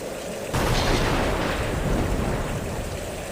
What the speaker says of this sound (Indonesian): Malam ini hujan deras.